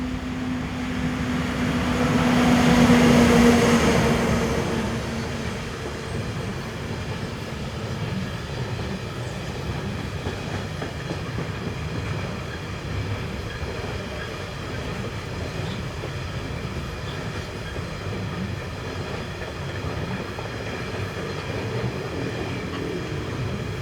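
A Swiss class 420 electric locomotive hauling a postal train on the Olten to Oensingen main line passes close by, a swelling roar peaking within seconds, then a long steady rumble and clatter of wagons rolling past.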